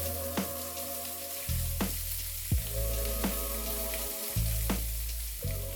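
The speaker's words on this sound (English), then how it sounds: "Now flip the steak, sear the other side," A steak sears in a stainless-steel frying pan, giving a loud continuous sizzle broken by occasional sharp taps and clicks, close by and without talk.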